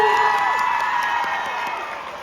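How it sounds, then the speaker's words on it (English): A crowd at a live tour show cheers and claps, with high-pitched shouts and whoops over brisk scattered clapping, loud and close, in a short burst. "Round of applause for Kennedy."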